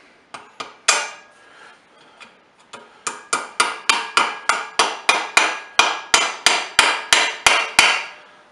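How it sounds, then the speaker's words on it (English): A small brass hammer taps bearings into place with sharp metallic strikes, a few scattered hits followed by a steady run of evenly spaced taps, close and clear with no talking. "get you a little brass hammer"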